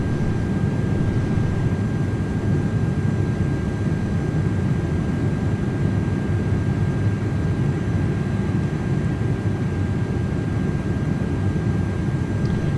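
Engines of an Airbus Beluga XL drone steadily inside Microsoft Flight Simulator 2024, a constant, even broadband roar with a faint high whine running unchanged throughout.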